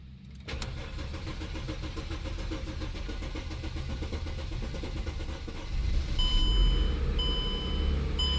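A Mercedes car engine cranks and catches after a fuel pump repair, then settles into a steady, loud running idle close by, with the revs rising briefly near the end and a faint electronic chime repeating over the engine.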